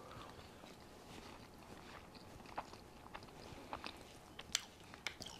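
Someone eats Radiolarian pudding from the Destiny cookbook, a spiced pudding glossy with coconut oil, with faint close-up chewing and a few soft crunchy bites and clicks scattered over a quiet background.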